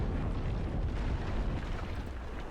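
A sailing warship catches fire during a naval battle in Ultimate Admiral Age of Sail, a steady roaring, crackling rumble with dull booms that continues without a break throughout.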